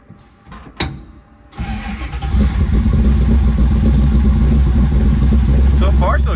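After a sharp click and a pause, a manual-clutch car engine cranks and catches, then settles into a loud, steady, rumbling idle with a slight vibration close by.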